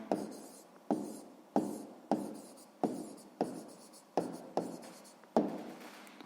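A pen writes down a math answer on paper, a series of about nine short scratchy strokes, each starting sharply and fading, close and distinct with no talk.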